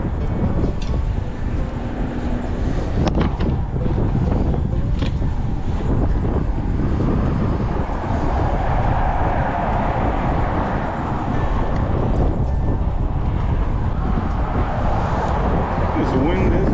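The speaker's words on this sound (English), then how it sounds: "This wind is rough." Strong wind gusts buffet the microphone at a coastal sheepshead fishing spot after Hurricane Debby, a steady, loud rushing roar that lasts the whole time.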